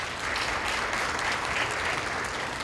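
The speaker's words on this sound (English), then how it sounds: "We'll give the YMCA a hand clap." An audience at a Haitian community partners gala gives steady, dense applause for the YMCA sponsor, a continuous wash of clapping with no voices over it.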